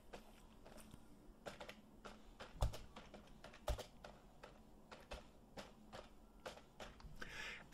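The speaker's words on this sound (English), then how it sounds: "we type in her name" Typing on a computer keyboard while entering a vendor name in accounting software: a quiet run of light key clicks in uneven rhythm, with two sharper, louder strokes, close and alone with no talking.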